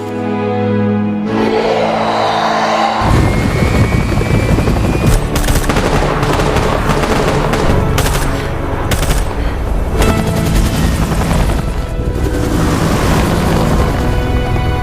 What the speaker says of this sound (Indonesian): tiba-tiba saja muncul sebuah helikopter yang langsung menembaki para zombie tersebut